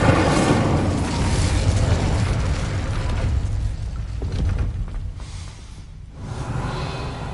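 An Incendio fire spell cast in the video game Hogwarts Legacy, a loud whooshing, roaring burst of flame that sustains for several seconds, dips briefly, then flares again.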